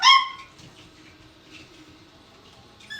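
Puppies yelp in a brief, loud high-pitched burst at the start, then only faint scattered whimpers and rustling follow, with a soft squeak near the end.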